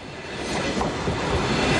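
A KTX high-speed train runs along the rails with a loud, continuous rushing rumble, rising slightly in intensity and spread across a broad range, with no voices over it.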